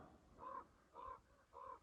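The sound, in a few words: crow cawing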